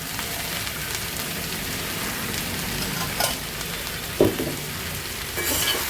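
Vegetables dry-sauté in a pan with rock salt and turmeric, giving a steady close sizzling crackle with a few sharper clinks and scrapes from stirring.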